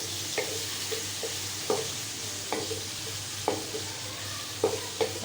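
Chicken frying with ginger and garlic in a pan, a steady low sizzle under a series of sharp scraping stirs at irregular intervals, close and moderately quiet.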